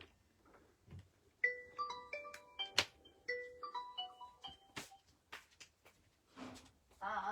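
A phone rings with a melodic ringtone of short bright tones, faint and indoors. Brief noises come before and after it, and no one talks over the ringing.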